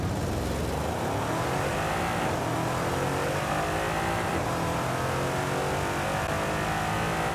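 An Aston Martin DBX in the racing game Forza Horizon 5 revs and accelerates, a loud, steady engine roar with rising and falling pitch sweeps throughout.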